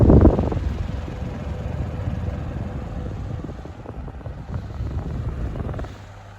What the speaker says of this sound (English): For a rubber bladed fan, it's not a bad air mover.